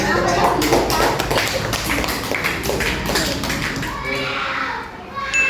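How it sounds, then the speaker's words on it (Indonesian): Fifth-grade children clapping in a classroom after a coding lesson, a burst of many small hands tapping rapidly and loudly, with children's voices and thumps mixed in, fading near the end. "Diberi tepuk tangan."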